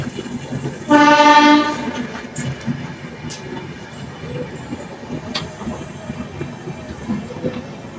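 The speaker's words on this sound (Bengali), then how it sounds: "আর এদিক থেকে এখন পাস হচ্ছে হাওড়া থেকে মুম্বাই মেল।" The Howrah–Mumbai Mail passing at night sounds a loud, sustained horn blast near the start, then its wheels rumble and clatter steadily on as the train rolls by.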